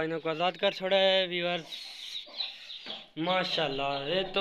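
Aseel chickens on a desi farm, clucking in strong harmonic bursts with a brief quieter gap in the middle, mixed with someone talking close by.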